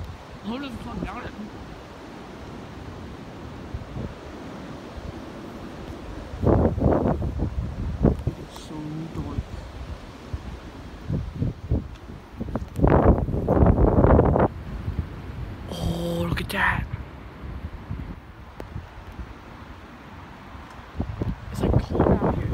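Cold, gusty wind buffets the microphone outdoors just before a hailstorm, with low rumbling gusts rising and falling throughout. A person talks over it in places.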